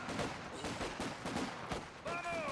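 Machine gun fire in the video game Battlefield V comes as rapid bursts of gunshots that repeat across the short span at moderate level, with a rising whistling tone near the end.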